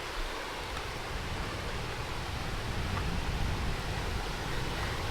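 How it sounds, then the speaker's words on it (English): Steady broadband rush of a flowing water stream, even and continuous throughout, sitting as a soft natural backdrop with no voices. "If you hear the water streaming in the background and you don't like it"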